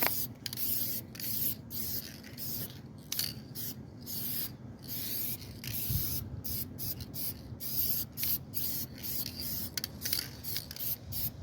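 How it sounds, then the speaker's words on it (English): Spray can painting a Tesla wheel, bursts of hissing spray from close by, broken by short pauses into an uneven rhythm of repeated passes. "I'm going to spray toward the cards and away from the center of the wheel"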